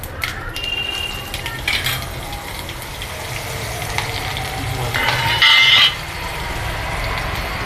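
Cut chillies dropped into hot oil with mustard seeds and asafoetida while tempering for nylon khaman, a steady loud sizzle with brief sharper crackles partway through.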